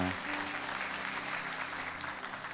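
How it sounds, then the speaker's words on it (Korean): Church congregation applauding musicians during a Sunday worship service at a Korean church in Irvine, a steady dense clapping that fills the room, with low sustained tones underneath. "멋진 연주로 하나님께 영광 돌리신 네 분께 다시 한번 큰 박수로 축복하겠습니다."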